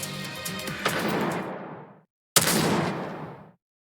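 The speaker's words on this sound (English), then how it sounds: "Those gunshots." Two loud gunshot bursts in a video game, each a sharp crack with a long rolling boom that fades out, the second following after a brief silence.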